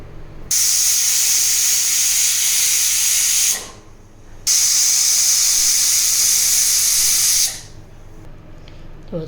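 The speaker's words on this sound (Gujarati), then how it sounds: "અને કુકરને બંધ કરીને 4 થી 5 વિસલ વગાડશું." A pressure cooker with winter khichdi inside whistles twice, each a loud, sustained high hiss of escaping steam lasting about three seconds, separated by a brief quiet gap, close by and without talk.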